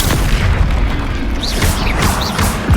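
Deep, rumbling booms from a Confringo fire spell in Hogwarts Legacy fill the space, loud and continuous, with crackling bursts and a few high magical whooshes layered over the blast.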